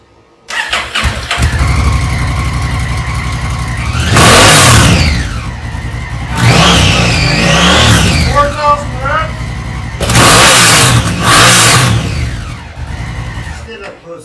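Honda Africa Twin motorcycle fitted with an Arrow slip-on exhaust, idling and then revving hard in three loud, close bursts with rising and falling engine pitch, with voices speaking between the revs.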